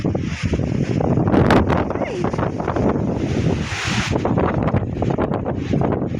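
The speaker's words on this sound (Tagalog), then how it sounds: "Sa lakas ng hangin." Strong typhoon-season wind gusts buffet and roar against the microphone while a person talks and exclaims over the blustery noise, with coconut trees swaying and a creek flooding nearby.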